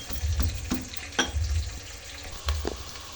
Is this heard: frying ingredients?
yes